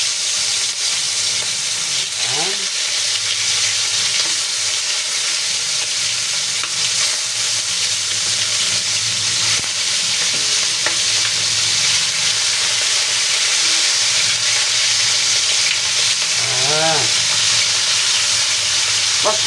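Chicken frying in hot oil in a pan, browning toward golden, gives a steady loud sizzle and hiss throughout, with occasional stirring clinks and scrapes.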